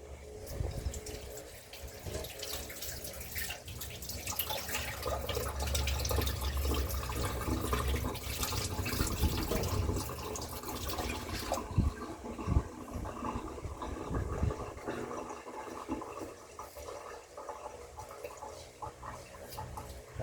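Running tap water pours and splashes steadily over a pineapple being washed at a sink, fairly close, then thins to lighter trickling and drips toward the end.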